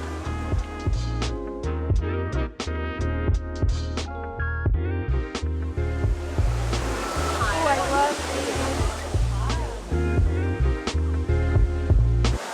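Steady rushing roar of a waterfall in a Singapore garden, heard up close as a continuous broadband wash beneath strong tonal, music-like sounds that come and go over it.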